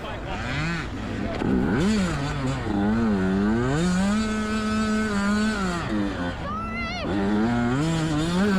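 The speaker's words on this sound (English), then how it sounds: "So this is how you do a fourth gear start." A Yamaha YZ85 youth dirt bike at a GNCC youth morning race in Florida doing a fourth gear start, its engine loud and close as the revs climb, hold and fall in repeated sweeping surges.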